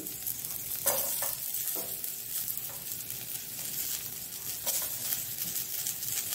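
Chopped carrots and a couple of sprigs of curry leaves fry and get stirred in a pan for a Mangalore-style carrot chutney, a steady close sizzle broken by several sharp scraping stirs, with no talking.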